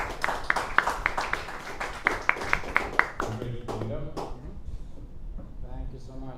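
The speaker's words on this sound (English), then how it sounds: "please, let's give them a welcome, warm applause" A small audience claps at a product pre-launch evening, giving sparse, evenly spaced claps for a few seconds before a voice takes over and talk continues.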